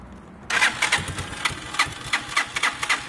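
A Piaggio Vespa 50cc scooter engine catches and settles into a quick, uneven puttering idle, close by and fairly steady after a sudden start.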